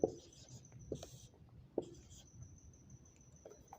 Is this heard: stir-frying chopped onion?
no